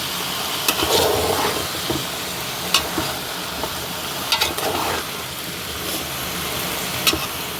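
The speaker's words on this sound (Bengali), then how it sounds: "এই এখন আবার কিছুক্ষণ কষো" Beans, potato and tomato stir-fried in a pan, a steady sizzle running throughout with occasional sharper scrapes and clinks of a spoon against the pan, close and moderately loud, no talking.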